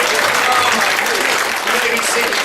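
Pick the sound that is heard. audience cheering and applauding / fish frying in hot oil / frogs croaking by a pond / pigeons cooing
audience cheering and applauding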